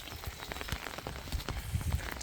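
Rain pattering and dripping steadily near a house's roof gutter system, close and fairly loud, with scattered heavier drops and splashes.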